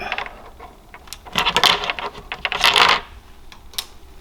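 A memory card is pulled from its slot in a Humminbird fish-finder unit, giving a run of small close plastic clicks and scraping rattles, busiest in two bursts, with no voices.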